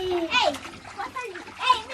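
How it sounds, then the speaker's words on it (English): Children play and splash in an outdoor pool, with bursts of splashing water mixed with kids' voices and shouts, fairly close and lively. "So them in the water and then they play."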